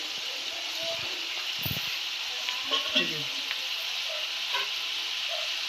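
Cut okra deep frying in plenty of oil, a steady loud sizzle and crackle throughout, with a few soft stirring scrapes and light knocks near the middle.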